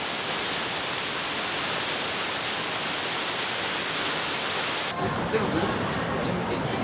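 Cascading Yinlian Zhuitan waterfall in Guizhou, China, rock-face streams splitting and joining: a constant near roar for about five seconds, then an abrupt cut to quieter outdoor ambience with faint crowd murmur.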